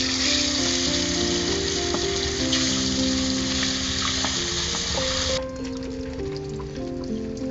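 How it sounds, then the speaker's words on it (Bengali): Koi fish frying in hot oil with taro, a loud, continuous close sizzle with crackling pops that drops slightly in level partway through as the sound changes, with no voices. "এখন বাকি মাছগুলো দিয়ে দিচ্ছি"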